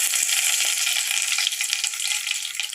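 Bay leaf, cinnamon, cardamom and cloves fry in hot oil for jeera rice, giving a steady, loud, close-up hiss and sizzle with a few small clicks of stirring.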